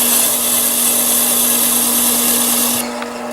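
A gemstone being ground on a heavy grit lap, giving a steady loud grinding whir with a constant motor hum underneath, close up and without talk, cutting off abruptly near the end.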